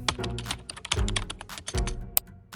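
Fingers tap quickly on a computer keyboard, close and clear, in bursts of crisp key clicks with a few heavier thunks between short pauses, and no voices.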